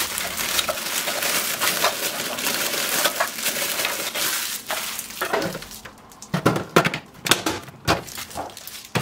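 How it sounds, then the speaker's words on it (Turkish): Biscuits being ground in a processor give a dense, crunching, crackling rush that runs loud and steady, then breaks into shorter bursts toward the end, with no voices. "Kalan bisküvileri de çekmeye devam edelim."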